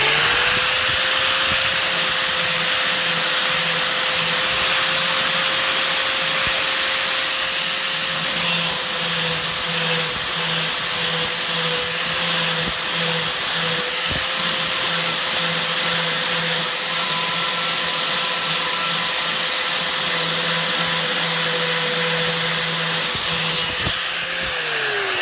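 An angle grinder fitted with a flat disc cleans up cut edges of a hole for a boiler element in a brew shed, a steady loud whine running continuously with slight shifts in pitch as the disc bears on the metal.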